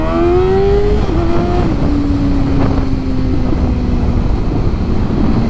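An engine fitted with an aftermarket eBay exhaust revs loud and close, rising sharply and then falling back to a steady drone with no talk.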